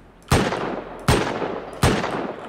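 Three loud, sharp gunshots in the survival game Rust, evenly spaced under a second apart, each cracking sharply and then decaying with a short echoing tail.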